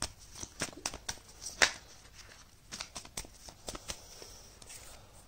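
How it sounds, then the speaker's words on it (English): Tarot cards are shuffled by hand, a quick series of crisp riffling flicks and soft slaps, close and fairly quiet, with no talking. "Okay, I've shuffled it."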